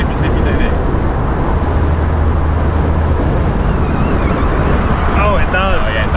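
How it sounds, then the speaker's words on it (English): Constant loud wind roar buffets the microphone while driving a Mini Cooper S convertible with the top down, a dense unbroken rush that drowns out everything else. "It's so windy."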